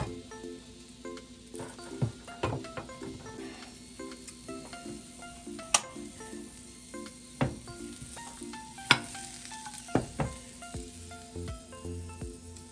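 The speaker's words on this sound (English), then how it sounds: "and then I'm gonna saute and put some salt and pepper and herbs." Marble potatoes, already microwaved, sauté in a pan with salt, pepper and herbs, making a steady close sizzle. Several sharp clinks and scrapes of a utensil against the pan come through as they are stirred.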